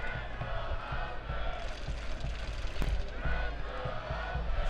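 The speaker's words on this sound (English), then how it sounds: "Chance of Let's Go Oakland ring up from the crowd, trying to will this team on." A soccer stadium crowd at an Oakland Roots match chants "Let's Go Oakland" in a steady, rhythmic pattern, broad and moderately distant, with a commentator talking over it.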